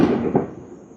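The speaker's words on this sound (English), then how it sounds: "still doing fireworks?" Fireworks go off in a single loud, crackling burst that fades away over about a second, with no voices.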